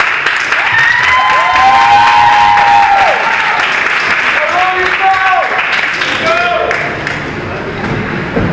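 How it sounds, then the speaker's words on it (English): Applause and cheering from the audience at a 2022 dessert theater show, loud and sustained for the whole stretch, with high whoops and whistles rising above the clapping before it thins out near the end. "let's give a big round of applause"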